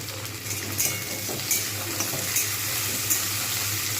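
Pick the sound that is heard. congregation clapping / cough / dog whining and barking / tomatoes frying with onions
tomatoes frying with onions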